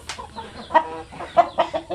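A few short, throaty clucks from a broody Basilan hen, spaced irregularly, with faint barnyard background noise.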